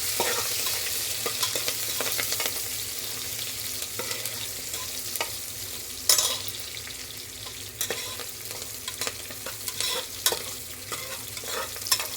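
Mustard seeds and curry leaves frying in hot oil for mutton gravy, a dense continuous sizzle and crackle with scattered pops and occasional stirring scrapes.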